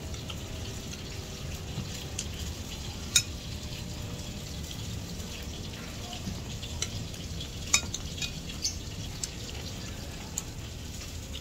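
Food fries in a pan with a soft, steady, fairly quiet sizzle, broken by a couple of sharp little clicks and pops.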